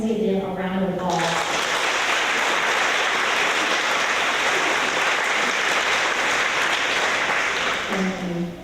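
At a school fourth grade awards event, an audience gives award recipients a sustained burst of loud, dense applause that starts abruptly and holds steady before tapering.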